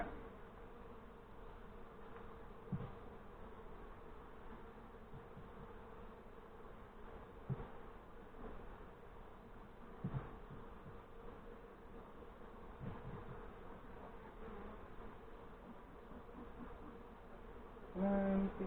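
Honeybees from a nuc in northern Michigan buzz as they move into a new hive, a faint continuous droning hum with a few soft knocks and a brief louder burst at the end.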